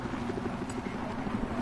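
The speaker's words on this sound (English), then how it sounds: "Oh, helicopter. They'll come up here in a minute. Helicopter now." A helicopter in a first-person shooter video game sounds as a steady, rhythmic rotor thump, moderately loud and continuous throughout the short stretch.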